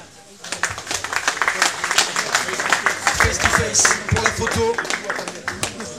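Audience at a European K1 kickboxing championship weigh-in claps for a female fighter, a brisk, steady patter of many hands under someone speaking over a microphone.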